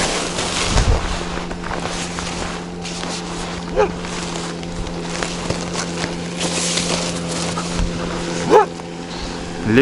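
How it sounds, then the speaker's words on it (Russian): An outboard motorboat passes on the water during a fishing trip, its steady engine drone running throughout, with wind buffeting the microphone and occasional faint voices. "Очередная лодка спускается."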